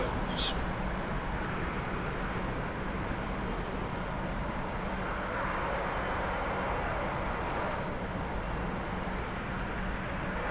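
Jet engine of a T-45 trainer aircraft in flight just after takeoff in the DCS flight simulator, a steady, dense roar holding at constant loudness for the whole stretch, with a brief high beep near the start.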